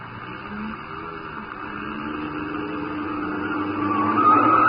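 Old-time radio drama car effect: a chauffeured car driving and swinging hard around a corner, steady engine drone rising in loudness with a tire-squeal whine building near the end, no talk.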